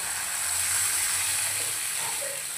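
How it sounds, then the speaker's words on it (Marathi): Water poured into a pan of frying tomato and rava upma, giving a steady broad sizzle and steamy hiss that holds evenly throughout, with no talking. "आता यात आपण पाणी ॲड करू."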